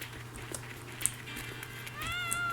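A cat meows at an animal clinic in a video game, with short synthetic mews over a steady hum of game background sound.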